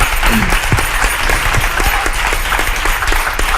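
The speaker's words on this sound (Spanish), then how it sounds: "Un aplauso para Almudena Cid." An audience at a women's empowerment event applauding a former Olympic rhythmic gymnast, continuous close, loud clapping with a few cheering voices mixed in.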